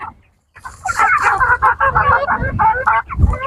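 Burmese hens cluck busily close by, a dense run of overlapping clucks and chatter that keeps going without a pause once it starts.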